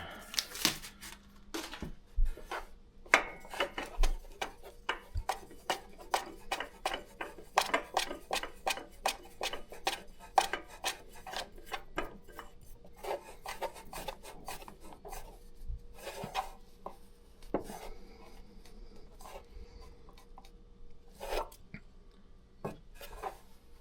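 Oil filter on a Toro TimeCutter riding mower being screwed back on by hand, giving a run of close, dry rasping and rubbing scrapes in irregular bursts, with a few sharper clicks and no talk.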